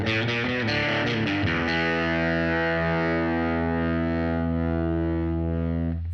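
A distorted electric guitar plays a quick blues lick, then rings out on a long sustained note with a gritty, effect-laden tone and no voices.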